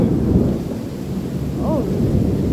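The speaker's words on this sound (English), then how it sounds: "the thunder's gonna be loud" Thunder rolls loudly through a backyard thunderstorm, a steady deep rumble layered with the hiss of heavy rain.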